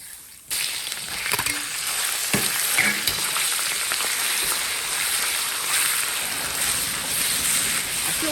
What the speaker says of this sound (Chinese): 色肉先炒一下